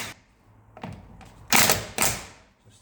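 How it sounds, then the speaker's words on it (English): Rattle gun slackening the wheel bolts on a VW Caddy Mk2 van: two short, loud impact bursts after a faint earlier rattle, with quiet gaps between, close to the microphone. "We'll use the rattle gun to just gently"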